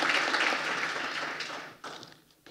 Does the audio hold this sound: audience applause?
yes